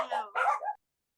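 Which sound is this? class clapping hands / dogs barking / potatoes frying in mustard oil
dogs barking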